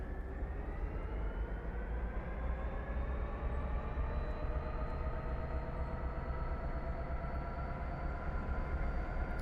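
In Train Sim World 2, a simulated train releases its brakes and departs, a steady loud rumble with a slowly rising motor whine carrying on alone without speech.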